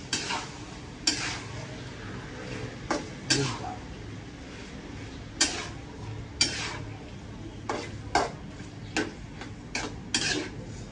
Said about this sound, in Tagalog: So, hahaluin lang natin yan kapag nakalagay na yung tomato sauce.